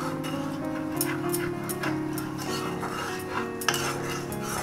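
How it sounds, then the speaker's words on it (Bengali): Tamarind powder being stirred into oil in a pan for a coconut-milk rohu fish curry, with repeated utensil scrapes and clinks against the metal over a steady hum of cooking, close and fairly continuous. "তো আমি এখানে একটু মিশিয়ে নিচ্ছি, এটা মিশিয়ে নিচ্ছি"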